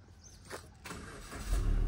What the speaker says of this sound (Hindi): तो आप क्लच दबा के इंजन ऑन करो।